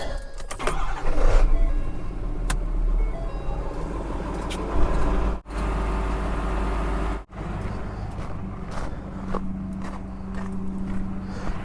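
A truck engine runs at a steady low idle after starting, a loud, close rumble broken by two sharp momentary dropouts, with faint clanks and handling noises over the drone.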